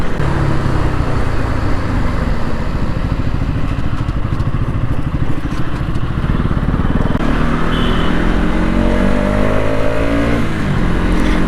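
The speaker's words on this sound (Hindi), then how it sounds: "यार कभी कभी कितना सही साउंड लगता है बाइक का, एकदम सुपर बाइक माफिक कर दिया यार" Bajaj NS200 motorcycle engine revving on a road ride, a loud, continuous engine roar with rising and falling pitch as it accelerates, close to the listener with no talking.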